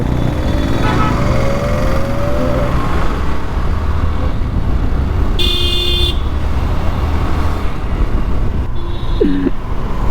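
Busy traffic on a Hyderabad street near Charminar, buses passing amid a steady roadway rumble, with a short car horn toot cutting through midway and a brief squeal of another vehicle near the end.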